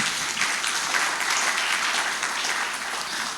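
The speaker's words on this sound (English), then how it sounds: "please, a round of applause for them" A crowd applauds at a bank's 60th anniversary launch ceremony in Ghana, producing a sustained, even roar of many hands clapping at close range with no break.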